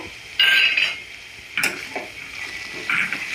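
Ivy gourd chutney ingredients frying in a pan over a low flame while being stirred, with close scraping strokes and clinks at irregular intervals over a steady soft sizzle, and no voices.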